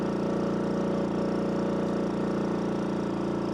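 A 1965 Honda Trail 90 CT200 motorcycle engine pulls up a small hill in fourth gear, a steady close putter with an even, unbroken drone throughout.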